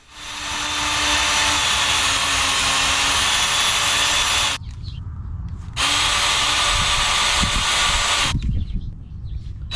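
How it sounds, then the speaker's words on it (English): A power drill, run in reverse, whines steadily into boat gel coat, stops briefly, then runs again for another long stretch before cutting out, with some knocking and handling noise in the gaps. "when drilling into gel coat, run the drill in reverse to avoid splintering"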